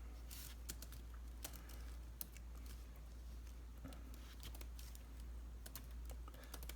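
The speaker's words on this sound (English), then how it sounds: "As you can see, I'm typing that right now." Steady, fast patter of keys on a computer keyboard, continuous clicking with irregular louder strokes, close but fairly quiet over a low constant hum.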